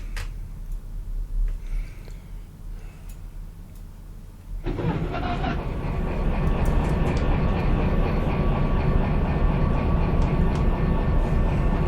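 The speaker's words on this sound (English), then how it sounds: "turn on our locomotive. So the engine is now running." A diesel locomotive engine in the train game Derail Valley starts up partway through, then settles into a loud, steady, rumbling idle with a constant mechanical drone, heard alone without talk.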